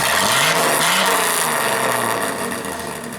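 A Ford F250 truck engine with a straight-pipe exhaust revs loud and nearby, its raspy note climbing and then easing back as the sound slowly fades over about three seconds.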